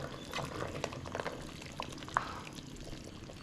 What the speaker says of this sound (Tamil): நண்டு சேர்த்ததுக்கப்புறம் குழம்பு வந்து நல்லா கொதிச்சிட்டு இருக்குது.